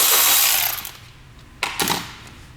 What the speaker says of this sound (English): So let's unbolt this thing.